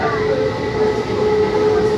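A Kolkata East-West Metro train standing at a station platform, a steady close rumble with a faint whine running throughout, loud and continuous.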